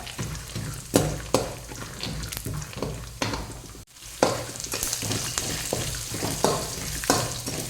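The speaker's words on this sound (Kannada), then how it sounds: "ನೆಲಗಡಲೆ ಹಾಕ್ಕೊಂಡು ಸ್ವಲ್ಪ ಫ್ರೈ ಮಾಡ್ಕೊಳ್ಳುವ" Chopped onions and peanuts frying in a pan for vermicelli upma, steady loud sizzling broken by repeated scraping stirs of a spatula, with no talking.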